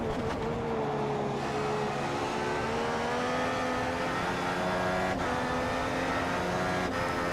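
Formula 1 race car engine in the F1 2015 game at Bahrain, racing as a Ferrari: a steady, loud high-pitched engine drone holding near-constant revs, with a couple of brief gear-change blips and no talk.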